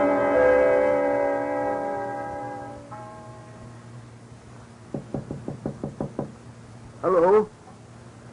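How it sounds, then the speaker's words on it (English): Sharp knocks on a door come in a quick series of about eight raps, moderately near, after a fading sustained musical tone and before a short burst of voice in an old radio drama. "Somebody knocking?"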